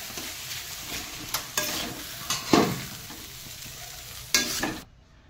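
Susni and red saag sizzle in a pan with spices while a spatula stirs and scrapes in several sharp strokes over steady frying, ending in sudden quiet.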